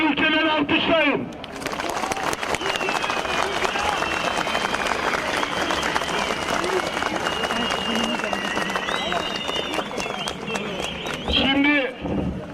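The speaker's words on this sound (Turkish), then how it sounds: "Karşı çıkan ülkeleri alkışlayın." A large crowd at a street march in Istanbul breaks into sustained, rapid applause lasting about ten seconds, dense and close, with a voice speaking briefly just before and again as the clapping fades.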